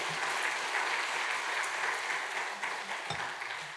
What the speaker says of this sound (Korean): 오늘 오신 분들을 위해서 한번 격려 박수 한번 했으면 좋겠습니다.